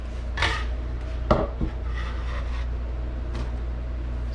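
A metal pan is picked up and shifted onto a kitchen stove, giving a few clattering knocks and scrapes close by, then light rubbing as it settles.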